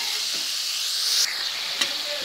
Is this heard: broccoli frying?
yes